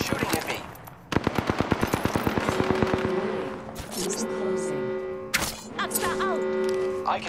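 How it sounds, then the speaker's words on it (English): Enemy gunfire in a battle royale video game: a fast machine-gun burst of evenly spaced shots rattles for about two seconds, followed by scattered shots, game effects and someone talking. "The enemies are shooting at me."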